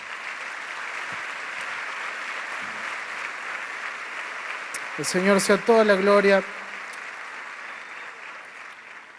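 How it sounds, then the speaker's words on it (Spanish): A church congregation claps steadily and softly throughout, while a voice speaks over it near the middle. "Si va a aplaudir, apláudale al Señor."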